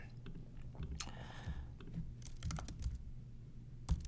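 Quiet, close typing of code on a computer keyboard, a steady patter of soft key clicks with a few sharper taps, no talking.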